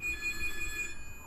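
A telephone rings in repeated short electronic bursts during an emergency-call exercise at a safety centre, moderately loud and alone with no talking, fading after about a second.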